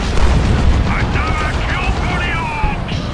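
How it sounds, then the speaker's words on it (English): Eldar D-cannon in Dawn of War 2: Retribution firing and exploding: a loud, continuous rumbling blast roar that fills the space, with voices faintly heard over it. "That D-cannon is basically one of the deadliest weapons in the Eldar's arsenal."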